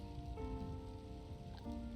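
Steady rain falls in the life-simulation video game inZOI, a soft continuous hiss that runs under gentle sustained game music tones.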